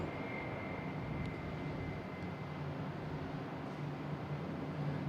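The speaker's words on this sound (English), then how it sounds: "Is that a Cape Air takeoff heading to Martha's Vineyard?" A Cape Air plane taking off from Boston Logan International Airport, heard as a steady, faint, distant engine roar that holds evenly without a clear peak.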